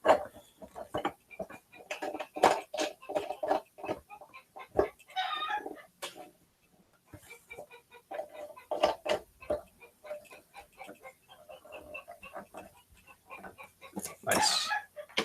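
A rooster clucks and calls repeatedly just outside a door, in a series of sharp, close bursts with short pauses between them, and a dog-like bark appears among the calls.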